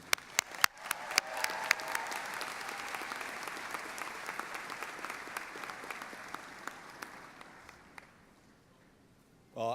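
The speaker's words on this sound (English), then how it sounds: "I want to give Danny another round of applause." Sustained applause from a sizable commencement crowd, loud at first and slowly thinning out toward the end.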